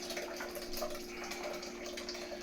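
Hot sauce is poured slowly through a fine mesh sieve, giving a faint continuous trickling, liquid pouring sound without any voices.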